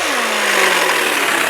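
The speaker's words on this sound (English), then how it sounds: "We have a little sander." A small pneumatic sander runs off an air compressor hose with a steady, loud, hissing whir. The sound holds at an even level for the whole short stretch.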